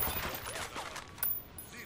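A squad opening fire in the video game Ghost Recon Wildlands, with scattered gunshot bursts at moderate distance, fairly quiet and uneven, with a sharper crack near the end.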